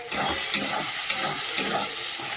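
Marinated chicken fries in a hot pan of spiced masala in white oil, giving a steady close sizzle with a few stirring scrapes, and no voices.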